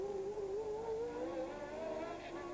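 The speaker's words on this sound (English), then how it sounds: "That's Hector Rabat having a little spin, and he seems to have parked it in rather an inconvenient spot" A Formula One race car engine at the 1981 Long Beach Grand Prix drones steadily at high revs, its pitch wavering slightly as it holds speed, loud and continuous.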